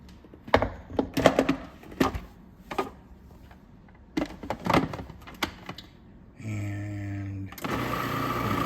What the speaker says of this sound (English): All right, so we got our dough out of the food processor